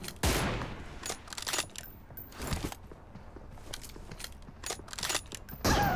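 Assault rifle fire in a PUBG team deathmatch: several sharp, loud bursts of shots spaced across a few seconds, with quieter mechanical clicks and footsteps in between.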